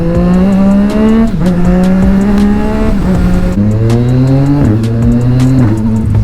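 A Yamaha MT-09 motorcycle engine, heard loud and close while riding, rises in pitch under acceleration with several quick gear shifts dropping the revs before it climbs again.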